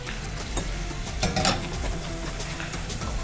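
Egg and panko breading mixture stirred for crispy chicken with kashar cheese, with a continuous scraping and swishing sound, irregular strokes with a few sharper clinks, steady and fairly quiet without voices.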